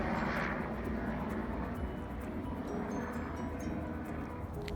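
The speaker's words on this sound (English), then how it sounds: "it's a busy day for overhead traffic" A fixed-wing aircraft flies overhead on a day of busy air traffic, its engine drone a distant, steady rumble that holds faint and even across the whole stretch, with no talking.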